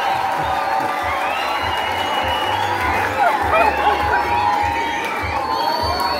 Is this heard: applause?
yes